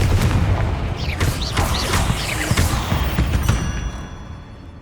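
A Confringo fire spell going off in Hogwarts Legacy beside an altar and a pile of bones in a tomb, a loud, dense rumbling blast with crackling bursts that holds for several seconds and then fades toward the end.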